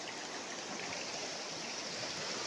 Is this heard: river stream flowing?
yes